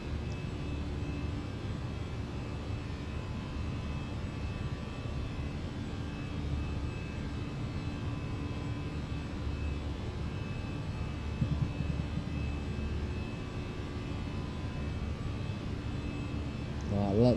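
The jet engines of a Fenix A319 airliner in Microsoft Flight Simulator 2020 during the climb give a continuous broadband roar with a steady whine, even and sustained throughout, fairly quiet with no other sounds on top.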